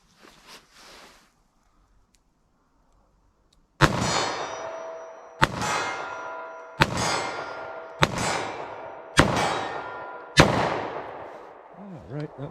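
A Taurus 856 .38 Special revolver with a 3-inch barrel fires six loud, sharp shots in a steady rhythm roughly one to one and a half seconds apart, each one ringing out with a short echo.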